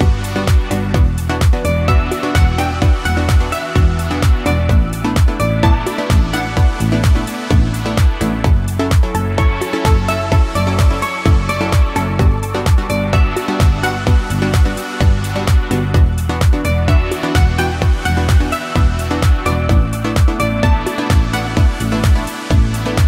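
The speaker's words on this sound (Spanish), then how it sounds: "Esta canción es del género Melodic Progressive House y suena así." Melodic progressive house track produced in FL Studio Mobile, with a steady four-on-the-floor kick pulsing under sustained layered synth chords and melodic lines; full, loud and continuous throughout, with no voices.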